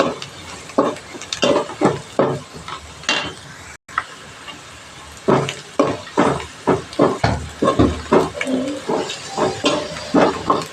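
Onions and chili powder are sautéed and stirred in a pan for an egg curry, giving a close, steady sizzle broken by repeated scraping strokes, with a brief dropout partway through.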